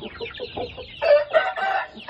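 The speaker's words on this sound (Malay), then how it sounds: "Okay, so ni anak-anak ayam juga." Shamo chickens and chicks on a small farm coop, a run of close clucking and short squawking calls in quick irregular bursts, louder toward the second half.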